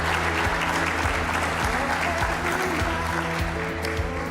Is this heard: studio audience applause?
yes